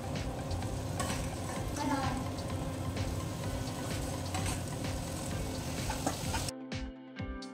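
Boiled chicken and small whole potatoes frying in a pan, with a steady loud sizzle and stirring scrapes running throughout. A voice talks over the cooking, and the sound cuts off near the end.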